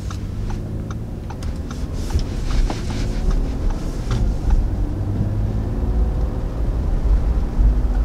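A 2019 Audi Q7 driving in dynamic mode, with steady engine and road rumble filling the cabin and a few light clicks over it, at an even level throughout.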